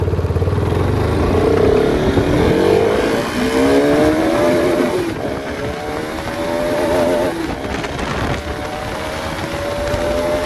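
A KTM Duke 250 motorcycle accelerates hard toward top speed on an open road, its engine note loud and continuous, rising through gears with a strong steady roar and wind noise throughout.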